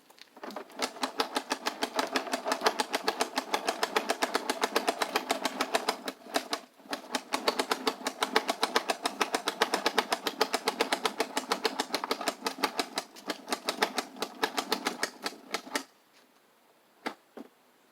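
A Legooin 50 ft retractable extension cord reel unspooling, its ratchet giving a dense, rapid run of loud close clicks for about fifteen seconds, one short pause midway, then stopping with a few last isolated clicks.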